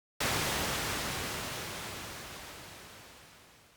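A filtered pink noise burst shaped as a room impulse response, slightly different on left and right: one sudden onset of broadband hiss that fades slowly and steadily over a few seconds.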